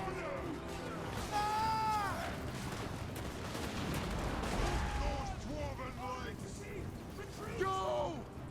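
Artillery booms in Total War: Warhammer 2 as it fires on handgunners, with several dull, distant-sounding blasts and rumbles mixed into battle noise under steady talking.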